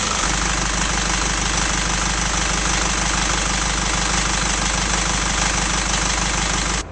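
A turbocharged Isuzu 5.2-liter four-cylinder diesel in a 2006 GMC W4500 box truck idles loudly and close-up, with a dense, steady knocking rumble that cuts off abruptly at the end.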